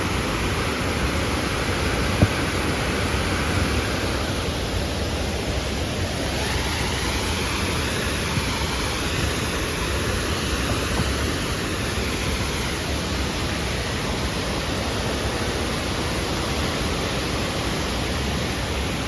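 A strong, swollen river rushes near a waterfall by an old Dutch-era bridge in the rain, a dense, continuous roar that fills the whole stretch evenly and loudly, with no voices.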